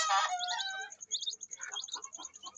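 A ten-day-old chick takes fright and flutters away, with quick soft wing flaps and sharp high cheeping, close and fairly faint, and no talk.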